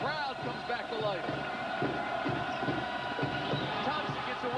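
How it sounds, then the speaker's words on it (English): Arena crowd at a 1989 college basketball game, Syracuse at Notre Dame, roars back to life in a loud sustained swell of cheering, with a commentator talking over it. "The crowd comes back to life."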